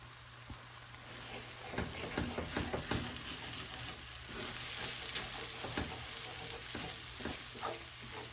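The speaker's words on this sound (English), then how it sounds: "you're basically just going to mix the rice into the eggs" Rice and scrambled eggs frying and being stirred in a hot cast iron pan, a steady close sizzle with scattered crackles and scraping stirs throughout, no voices.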